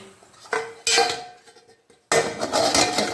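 Metal clattering and clanking as steamed idlis are lifted out of a pressure-cooker pot, with a short burst, a louder run of clinks, a pause, then a sustained stretch of close pot-and-plate noise.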